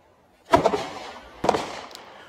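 Two sharp, loud blank-style gunshots crack about a second apart at an outdoor cowboy action shooting match, each followed by a short echoing tail.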